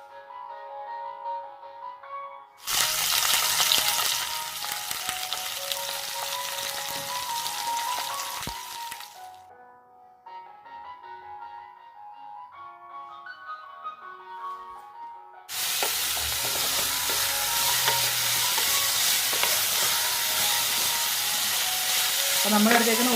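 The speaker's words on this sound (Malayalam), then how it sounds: "കടുക് പൊട്ടിയതിന് ശേഷം നമ്മൾ കൊച്ചുള്ളി, ഒരു സവോള, ഇഞ്ചി വെളുത്തുള്ളിയും കൂടെ ചതച്ചത്, പിന്നെ തേങ്ങാക്കൊത്ത് ഇത്രയും കൂടി ഇട്ട് നന്നായിട്ട് നമുക്ക് വഴറ്റിയെടുക്കാം." Shallots, onion, crushed ginger and garlic, and coconut pieces go into a hot pan after mustard seeds pop, giving loud sizzling frying in two long stretches, with softer stirring between and light background sound.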